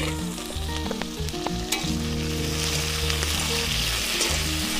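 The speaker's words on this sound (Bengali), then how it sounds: "আলুগুলো সুন্দর করে লাল লাল করে ভেজে নেব।" Potatoes fry in hot oil over a burning stove, a steady loud sizzle and crackle that fills the whole stretch with no talk.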